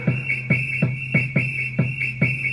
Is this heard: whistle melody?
yes